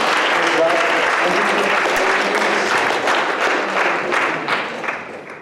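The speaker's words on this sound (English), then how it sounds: "Let us give Jesus a big round of applause for what awesome meeting" Congregation at a Lenten retreat meeting giving a big round of applause, dense, sustained clapping from a crowd that tapers off at the end, with speech mixed in.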